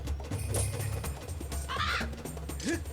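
Crow cawing in Skyward Sword HD, a few short harsh calls standing out over constant game music and ambience, fairly close and moderately loud.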